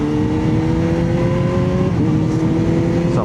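A Kawasaki ZH2 motorcycle engine is revved with the throttle, giving a loud, close, sustained roar whose pitch dips briefly before it climbs again.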